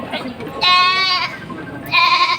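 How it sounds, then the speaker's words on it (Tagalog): Goats bleating at a livestock market in Padre Garcia, Batangas, two loud, close, wavering bleats, the second following after a short gap, with someone talking nearby. "Ayan ho kambing ng mga tambayan."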